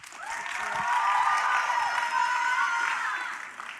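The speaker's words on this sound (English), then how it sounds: "So give them a round of applause." Audience applause at a fine arts dance evening, with cheering voices and a few shouts woven through a steady wash of clapping that swells and then slowly fades.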